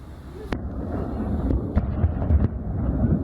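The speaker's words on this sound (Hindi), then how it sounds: "धमाके की आवाजों को सुन सकते हैं।" Rocket explosions in Kabul near a power station, heard as a few distant dull booms under constant wind rumble on the microphone, with one sharper crack near the start.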